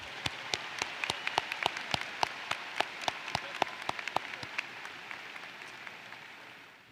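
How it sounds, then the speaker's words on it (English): A crowd at a high school commencement ceremony applauding the senior choir, with scattered distinct claps that thin out and fade toward the end. "Please join me in giving senior choir members another round of applause for their performance of our national anthem"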